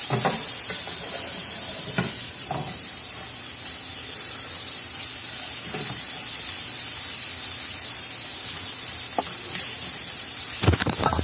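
A New York strip steak sizzles steadily in a pan while being basted with butter, a continuous bright frying hiss broken by occasional clinks and scrapes of the utensil.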